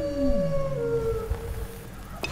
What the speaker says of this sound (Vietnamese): Một con chó.